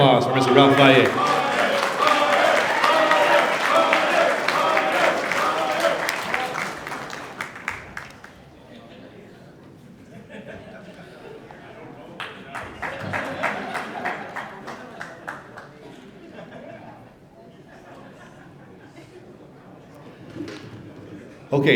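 An audience at a California Wrestling Hall of Fame lifetime service awards ceremony applauds a recipient, loud at first and fading after several seconds into murmuring and scattered claps, with a second, softer burst of clapping later.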